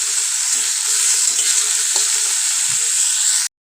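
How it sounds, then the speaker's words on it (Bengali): Steamed cauliflower fries in oil used for lentil dumplings, giving a strong, even sizzle close by with a few soft stirring knocks before it cuts off abruptly. "ডালের বড়ি ভাজা ওই তেলের মধ্যে আমি এবার ফুলকপি যে ভাপিয়ে রেখেছিলাম সেগুলো দিয়ে দেব"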